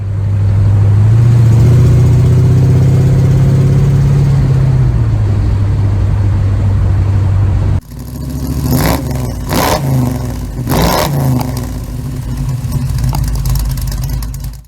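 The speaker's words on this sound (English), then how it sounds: "Today we're going to try and eliminate an exhaust leak coming from the headers. It's making a bit of a noise." A Chevrolet small-block 350 with a leaking exhaust header runs loud and close, first idling with a slow rev drop, then blipped sharply several times in quick bursts.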